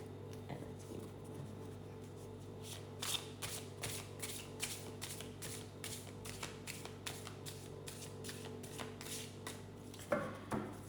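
A deck of playing cards shuffled over and over, with repeated riffling bursts and soft taps in a steady rhythm, close and fairly quiet over a low background hum.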